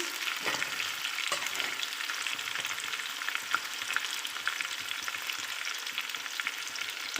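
Sliced onion and green chili sizzle and crackle steadily in hot oil in a pan, a continuous close frying hiss with a few faint stirring clicks.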